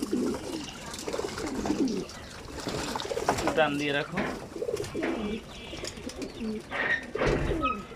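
A flock of collected pigeons coos throughout while bathing in a large supply of water, with occasional chirps and splashing, the birds close and busy under intermittent talk from people nearby.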